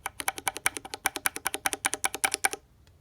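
Kailh Box keyboard switches are clicked in a switch tester, giving a quick, close, crisp run of about twenty sharp clicks in a steady rapid rhythm before falling silent.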